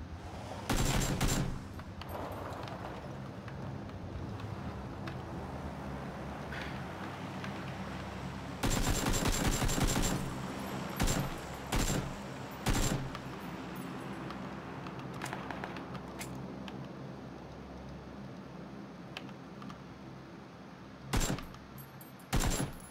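Gunfire in a battlegrounds video game: several separate bursts of rapid shots crack out over a steady low background rumble, some sustained for about a second, others single or paired, no speech.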